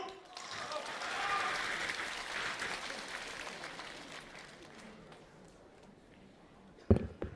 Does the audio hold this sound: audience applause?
yes